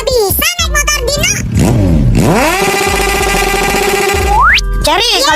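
A toy or cartoon motorcycle engine revs with a rising, sustained whine that climbs sharply at the end, loud and close, mixed with a voice talking.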